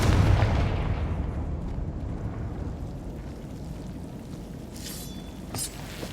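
A Confringo spell explosion in Hogwarts Legacy: a heavy booming blast that rumbles and decays over several seconds, loud and close, with a couple of faint sharp cracks near the end.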